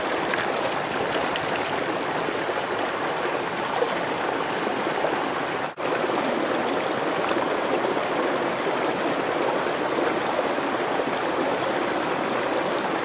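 Adirondack mountain stream rushing steadily, a dense unbroken wash of flowing water heard close and fairly loud for the whole stretch, with no voices.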